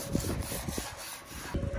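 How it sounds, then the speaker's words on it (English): A small brass wire brush scrubs broken-down grease out of a VW Bus part in quick, rhythmic back-and-forth strokes, close and fairly loud, with no talking. "I'm using like a little, it's a brass brush in there. I'm just gonna scrub it all out."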